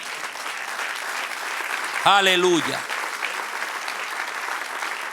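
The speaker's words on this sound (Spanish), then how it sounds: "Denle un aplauso al que reina." Church congregation applauding steadily at a pastor's sermon, a broad sustained clatter of hands throughout, with a voice briefly calling out an exclamation midway over the clapping.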